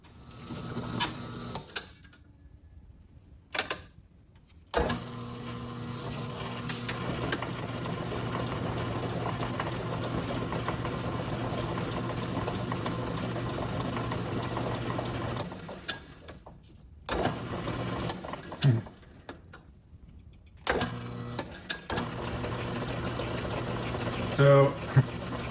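An Atlas Craftsman lathe with babbitt headstock bearings runs just after the bearing caps were tightened, driven by a link belt and step pulley; a steady mechanical hum and whir starts and stops several times, with short silent pauses between runs.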